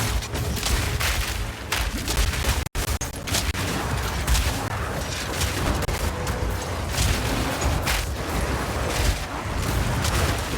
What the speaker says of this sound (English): It's those chain explosions you see.